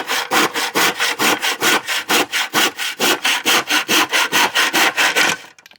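A hand saw cuts through wood in a garden with about twenty even, rasping strokes in a quick steady rhythm, loud and close, ending as the cut finishes.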